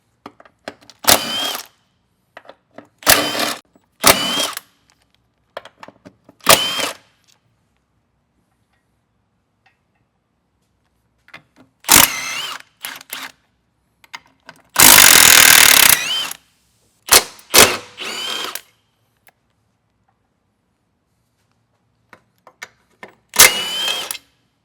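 Impact-type power tool removing nuts from a Subaru STI transmission brace, firing in short sharp rattling bursts with gaps between, plus one longer sustained run midway.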